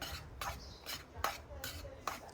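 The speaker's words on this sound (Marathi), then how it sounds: "आता ह्यामध्ये ज्या गुठळ्या झालेल्या दिसत आहेत त्या आपल्याला पळीच्या साहाय्याने आपल्याला हे मोडून घ्यायचे आहेत." A ladle scrapes and stirs flour roasting in ghee in a pan for mung-makhana laddoos, breaking up lumps with a series of rhythmic, close scraping strokes and faint metallic clinks, without talk.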